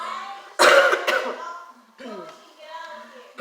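A sudden, loud, close cough from a woman choking on food while eating a fish dinner, followed by a brief throat-clearing rasp and some vocal sounds.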